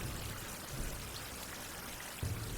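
Rain falls in a survival game setting with a steady, soft hiss, and a slightly louder burst arrives near the end. No one talks.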